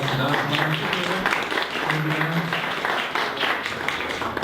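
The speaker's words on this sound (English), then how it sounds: "Let's give another round of applause to Ann." Steady audience clapping fills a meeting room at a marketing association gathering, dense and continuous throughout, with faint voices mixed into the applause.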